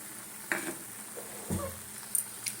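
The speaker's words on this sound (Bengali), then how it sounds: "ওইটা দিয়ে দিচ্ছি কাজু বাটাটা" Cashew paste being added to button mushrooms frying in a pan, with a few soft stirring scrapes and light sizzle at close range, quiet and intermittent.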